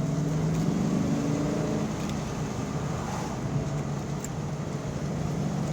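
A 1994 Ford Mustang Cobra cruising in second gear over bumpy road, a steady broadband engine and road drone with mild wind rush, continuous and moderately loud from inside the car.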